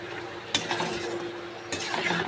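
Spicy chicken and potato curry is stirred in a pan with coriander leaves, giving a steady sizzling hiss broken by two sharp clinks of the spoon against the pan.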